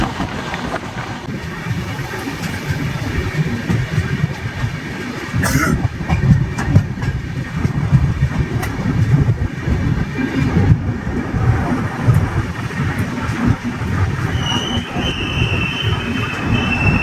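The 12656 Navajeevan Express, travelling from Chennai, runs steadily along the rails with a continuous rumble of wheels and carriage noise, soft clickety-clack and occasional faint squeals, heard close from on board without any talking.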